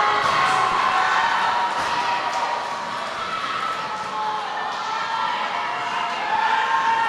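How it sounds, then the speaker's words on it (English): A crowd cheering at a junior roller derby match, a broad steady roar that fades a little and then swells again, with a commentator talking over it. "And the crowd goes wild."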